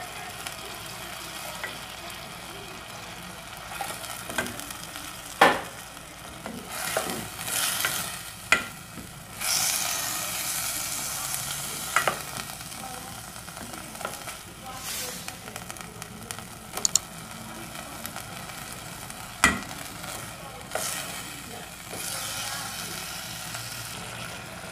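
Peas and corn sizzle and crackle in a hot pan, with a continuous frying hiss punctuated by scraping and clattering stirs and a few louder bursts as the vegetables are moved.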